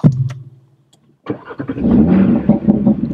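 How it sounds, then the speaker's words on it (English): An Audi RS3 engine cranks briefly, falls quiet, then catches on a second try and runs with a rough, steady rumble, up close. "I'm just going to start the car"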